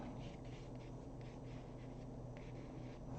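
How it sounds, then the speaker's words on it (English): A pencil sketches trees on paper with a steady, close scratching and rubbing that runs without a break over a constant low room hiss, with faint shifts where the strokes change direction. "So here I have a little more room, so I want to really kind of sketch it in here."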